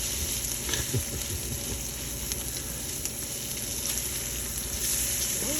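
Salmon patties frying in a pan, a steady crackling sizzle of hot oil with occasional louder pops and soft scraping, close and continuous.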